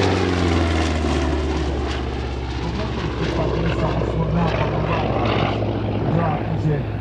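A Republic P-47D Thunderbolt propeller fighter drones steadily at a 2024 historical airshow, a loud, continuous engine roar with a low throbbing hum. A voice talks over it throughout.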